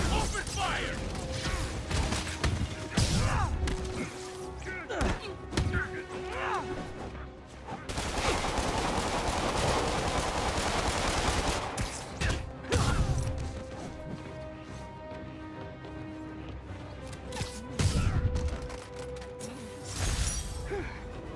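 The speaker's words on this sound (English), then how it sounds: "He's got more in. Open fire!" Enemy gunfire in Marvel's Spider-Man video game: repeated bursts of shots, crashes and impacts, mixed with dense combat noise, game music and occasional voices.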